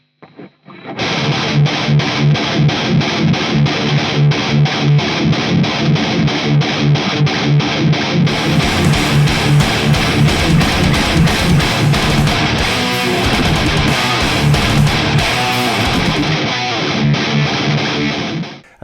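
A heavily distorted electric guitar through a Boss Katana amp chugs out a dense, driving thrash-metal rhythm part, loud and steady throughout with no voices.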